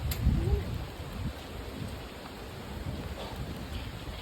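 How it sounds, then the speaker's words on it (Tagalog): Steady hiss of heavy rain pouring outdoors, with a low rumble and faint voices talking beneath it. "Grabe, lakas ng ulan."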